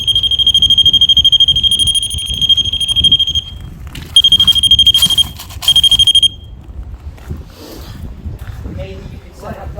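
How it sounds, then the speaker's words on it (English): A paranormal investigation device emits loud, piercing electronic beeps in sustained bursts, stopping and restarting. A long tone gives way to two shorter ones, with wind and background voices underneath, inside Okehampton Castle. "all it's going to do is make a nice little beeping sound for us"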